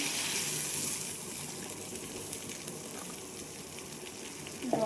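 Water poured into a pan of frying onion, garlic and ginger masala for a fish curry, a steady hissing gush that runs throughout, with a faint clink near the end.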